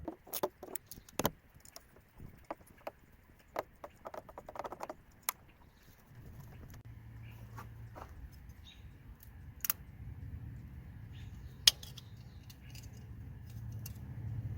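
A 10mm nut on a heat shield of a 2.4-litre Jeep Renegade engine is worked loose with a tool, giving a run of sharp, close metallic clicks and ticks, followed by quieter, steadier rustling and handling noise.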